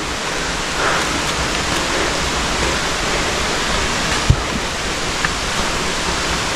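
A waterfall in Ilocos Sur roars as a loud, steady broadband rush of falling water, unbroken throughout with one faint thump.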